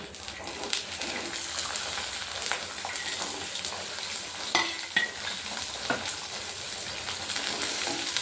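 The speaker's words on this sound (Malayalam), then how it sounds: "വെളുത്തുള്ളി നല്ലപോലെ ഒന്ന് വഴറ്റിയെടുക്കണം." Garlic sizzles and fries steadily in sesame oil in a pan, a continuous bright crackle with occasional stirring clinks, close and unbroken.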